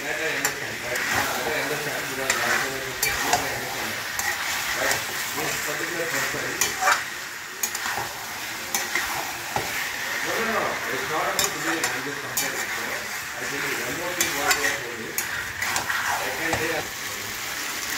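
Cauliflower and potato stir-frying in a pan, with a continuous sizzle broken by repeated scraping stirs of a spatula, close and busy, while a person talks over it in places.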